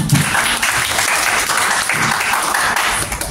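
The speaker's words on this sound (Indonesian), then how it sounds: "beri tepuk tangan untuk Brahma" A crowd claps steadily for a few seconds, dense and loud applause with no speech over it.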